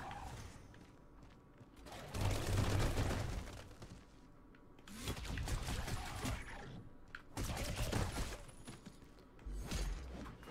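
Bursts of video-game gunfire from Redeemer, a cheap action game, come in dense clattering volleys separated by brief lulls, loud and close throughout the fight.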